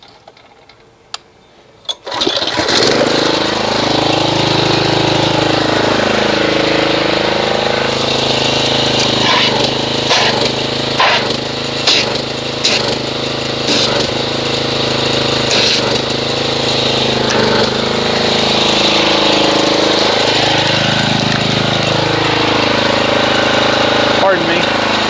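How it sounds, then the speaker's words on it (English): A gas pressure washer engine starts up and runs steadily and loudly, a continuous droning hum with slight rising and falling in pitch, while car soap is foamed with it. "let's get the pressure washer and see what kind of foamage it makes"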